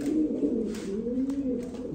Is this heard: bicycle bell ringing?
no